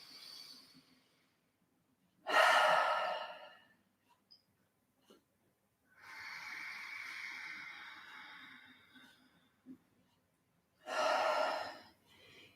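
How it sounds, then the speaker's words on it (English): Slow, deliberate breathing during a yoga class: three separate big breaths, each a loud airy rush lasting a second or two, spread across a quiet stretch with pauses between them. "just take 2 really big breaths"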